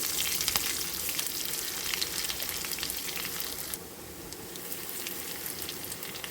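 Shallots hiss and sizzle in hot coconut oil with popping mustard seeds, a dense, close crackling that eases slightly in intensity partway through, with faint stirring and no speech.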